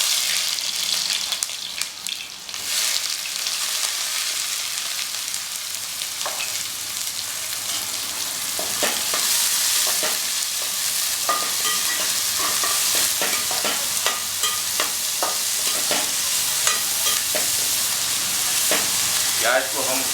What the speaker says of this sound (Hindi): अब हम इसके अंदर प्याज का प्रयोग कर रहे हैं।